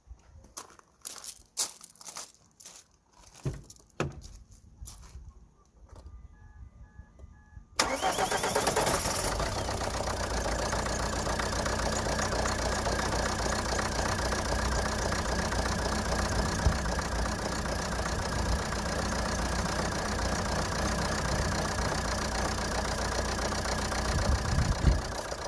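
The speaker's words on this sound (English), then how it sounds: "So just gonna crank up the engine." Ford S-Max engine after a head gasket repair, with cylinder 3 misfiring: several seconds of clicks and cranking, then it fires and settles into a loud, steady, slightly rough idle that continues close up.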